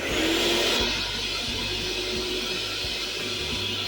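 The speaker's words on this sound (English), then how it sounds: "let's get the dust collection turned on" A workshop dust collection system runs with a loud, continuous whooshing roar that is strongest in the first second and then settles to a steady level, with no voices.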